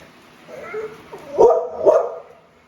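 A pet dog at home lets out two sharp, close barks after some softer whining sounds, loud against an otherwise quiet room.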